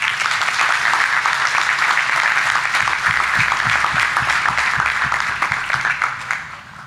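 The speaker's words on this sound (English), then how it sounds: "Give yourselves a round of applause." A crowd claps steadily in sustained, dense applause that fades toward the end, with no speech over it.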